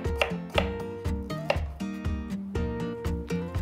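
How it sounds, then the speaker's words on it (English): A knife chops green chilies on a board in a rapid series of crisp, evenly spaced taps, close and clear with no talking. "let's take some green chilies, and let's slice them"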